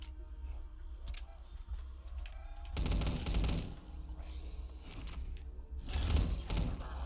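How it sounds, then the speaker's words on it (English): A Tommy gun fires in bursts in a remastered Black Ops 3 zombies map. Dense, loud rattling volleys sit over game background noise and mechanical clicks, with the heaviest bursts coming midway and near the end. "Can't beat a good old-fashioned Tommy gun."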